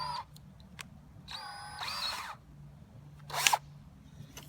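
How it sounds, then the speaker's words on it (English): A power drill pre-drills screw holes in greenhouse window panels, several short whirring bursts with pauses between them, one brief louder whine near the end, close and moderately quiet. "When joining the windows, it's always smart to pre-drill any holes that you make with the screw for the screw."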